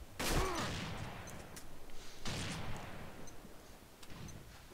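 Gunfire in the video game Combat Arms: a sharp close shot opens, followed by a steady rattle of rapid fire and scattered distant bursts, with no talking.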